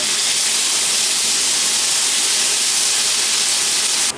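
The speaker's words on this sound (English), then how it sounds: "let's first fry up our bacon slices" Three bacon slices frying in a pan give a loud, dense, continuous sizzle and crackle close by, steady throughout with no talking.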